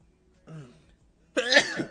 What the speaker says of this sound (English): had to sneeze, my bad